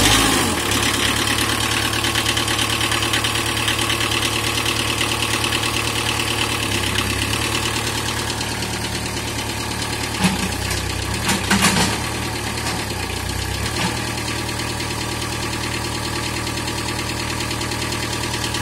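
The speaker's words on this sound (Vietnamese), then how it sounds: "Đây rồi cho nổ động cơ đi." A Mitsubishi 35B excavator's diesel engine idles steadily and loudly up close, a continuous rough, knocking rumble with a few brief clanks midway and no talking.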